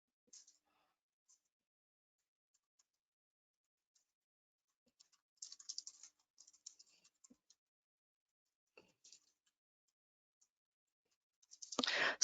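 Computer keyboard typing at a desk, scattered quiet key clicks with long gaps, then a short flurry of keystrokes and a louder burst of clatter at the end.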